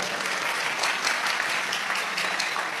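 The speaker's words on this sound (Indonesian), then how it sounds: "Tepuk tangan." Sustained applause from a large audience at an Indonesian religious gathering, a steady dense wash of clapping throughout without a break.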